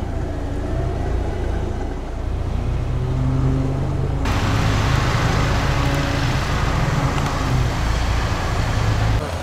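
A steady mechanical whine and engine drone run throughout, a 10,000 lb winch straining under load pulling two off-road vehicles through mud, with a vehicle motor rumbling alongside.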